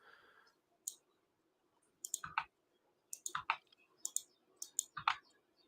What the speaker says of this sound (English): she's clicking on them and then clicking the D